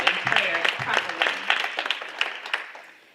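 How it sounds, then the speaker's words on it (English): An audience at a women's transformation summit breaks into applause, a dense burst of clapping that swells, then gradually thins and fades out over a few seconds. "give another round of applause for Sister Wakili Muhammad and Sister Felici"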